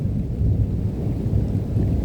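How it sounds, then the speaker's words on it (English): Deep thunder rumbles heavily through a spring rainstorm with pouring rain, a loud, sustained low roll with no voices. "Gosh, listen to that. Thunder, holy."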